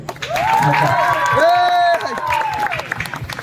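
Applause from a live audience at a children's tribal theatre camp in Nagarahole, sustained broadband clapping and crowd noise filling the space steadily throughout, with a voice speaking over it.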